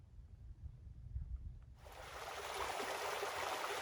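The San Diego River in Mission Trails Regional Park rushes in, a steady broadband wash of flowing water that fades up from near quiet and then holds, close and continuous.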